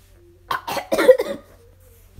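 A voice imitates a cough, coughing up blood in a retelling of a Naruto fight scene: a short burst of three or four rough, breathy hacks, close and fairly loud, with no other talk.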